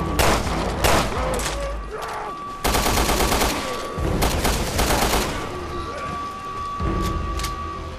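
Resident Evil Revelations 2 combat fills with loud, close bursts of rapid gunfire and scattered single shots, dense and continuous over a steady electronic tone.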